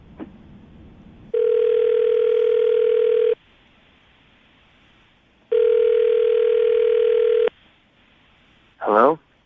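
Two long, steady telephone ringback tones sound during an outgoing call, evenly spaced with quiet gaps between them, followed by a short chirp as the line connects.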